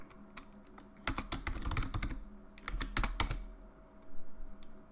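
Rapid bursts of typing on a computer keyboard while code is written, clustered keystrokes close and crisp, with pauses between runs and no talking.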